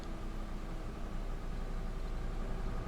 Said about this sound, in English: this engine's actually quite a nice engine sound.